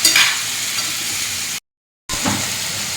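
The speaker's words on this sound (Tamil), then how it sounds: "இதை நல்லா வதக்கணும்" Vegetables, including drumsticks, are sautéed with salt in a pan for a Tirunelveli-style mappillai sodhi curry, making a loud, continuous sizzle with stirring. The sound cuts to brief silence midway, then resumes.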